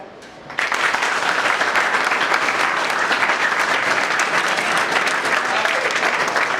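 Applause from a school class, a dense, steady burst of many hands clapping that starts abruptly and carries on evenly at full loudness.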